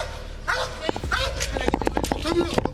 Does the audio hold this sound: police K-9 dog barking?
yes